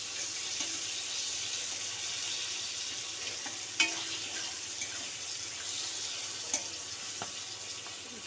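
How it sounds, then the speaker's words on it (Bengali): Home-grown flat beans fry in a pan with a steady, soft sizzle and crackle across the whole stretch, broken by a couple of sharp clicks, probably a utensil. No voices. "গাছের সিম দেখো বন্ধুরা, ভেজে নিচ্ছি।"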